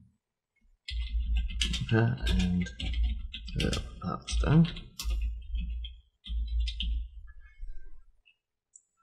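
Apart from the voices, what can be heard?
typing on a computer keyboard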